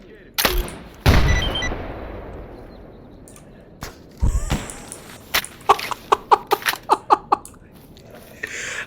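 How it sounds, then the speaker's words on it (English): Grenade blast and gunfire in the shooter game Stalker Anomaly: a couple of heavy booming bursts early on, then a quick run of sharp, evenly spaced shots near the end, with no talk over them. "this calls for a grenade"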